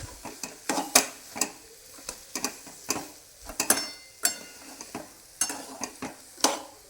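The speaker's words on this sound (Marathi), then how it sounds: "हे दोन मिनटं मिक्स मिक्स करून घ्यायचं" A spoon repeatedly scrapes and stirs a dry puran filling of cooked lentils and jaggery with cardamom powder and nutmeg in a pan, producing irregular clicking scrapes with soft sizzling between them.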